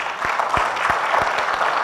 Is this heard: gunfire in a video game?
no